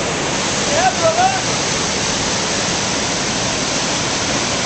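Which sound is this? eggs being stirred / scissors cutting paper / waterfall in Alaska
waterfall in Alaska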